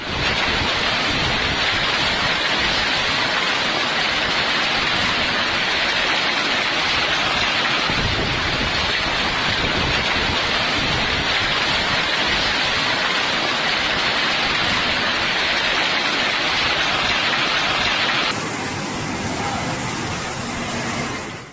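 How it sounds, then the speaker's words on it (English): Heavy rain in Istanbul pours in a dense, continuous roar that barely changes, easing slightly near the end, during historic flooding. "heavy rain flooded streets and homes"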